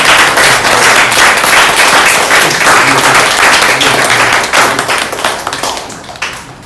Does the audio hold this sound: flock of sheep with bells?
no